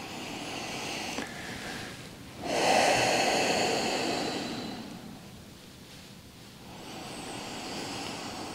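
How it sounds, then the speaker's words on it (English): Three long, deep breaths in a guided relaxation, slow airy inhales and exhales close to the microphone over a steady background hum, with no talking. "Taking 3 nice long breaths"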